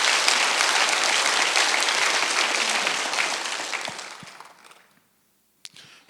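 A church congregation at a Sunday service claps hard together, a loud, dense burst of many hands that gradually thins and fades to silence, followed by a couple of stray claps.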